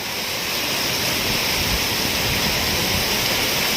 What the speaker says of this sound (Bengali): বছরের সেরা বৃষ্টি, একদম